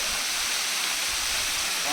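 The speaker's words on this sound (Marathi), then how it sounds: "हे जे वॉटरफॉलचं पाणी बघतोय आपण हे वाहत वाहत इकडं बॅक साईडला दुसऱ्या ओढ्यामध्ये जात आहे" Water crashing down at Ambrushi waterfall near Amsari, a loud, continuous, broadband roar heard close up, steady for the whole stretch with no breaks.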